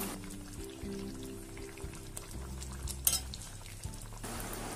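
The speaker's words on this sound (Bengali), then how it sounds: "মিশিয়ে দিচ্ছি।" Vegetable curry with fresh coriander being stirred in a pan, faint sizzling under a few light utensil clinks and scrapes against the pan, no voices.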